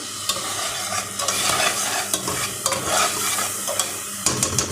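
Ground coriander and spices stirred into small fish frying in a pan for a curry, a close, continuous sizzle broken by repeated scraping and clacking strokes of the spoon against the pan.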